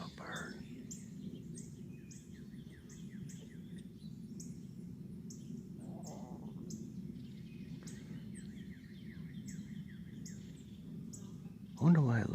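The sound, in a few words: small birds singing and chirping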